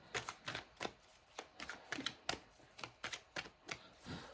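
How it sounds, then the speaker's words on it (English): Tarot cards are shuffled in quick, irregular bursts of papery slaps and riffles, quiet and close, with no voices. "So let's shuffle for the pile 3 people."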